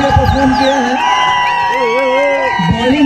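A crowd at a cricket match presentation cheers and whoops for a player, with shouting voices layered over sparse clapping, loud and close, and an announcer talking through it.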